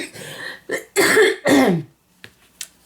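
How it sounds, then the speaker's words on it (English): A person coughs and clears their throat in a few harsh, close bursts, followed by a couple of faint clicks and a short quiet stretch. "Please forgive me for my coughing."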